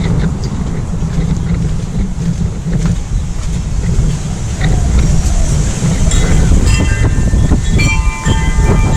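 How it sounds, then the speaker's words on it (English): Steady low rumble of wind buffeting a microphone outdoors, loud and continuous throughout with gusts swelling toward the end. "Sorry, it's a bit windy."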